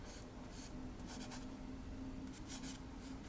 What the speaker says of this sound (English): So I'm just loosely sketching in the